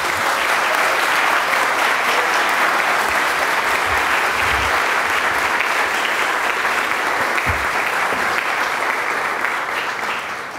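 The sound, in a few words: audience applause at awards ceremony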